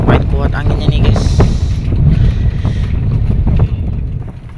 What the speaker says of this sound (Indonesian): Kuat-kuat kuat anginnya nih guys.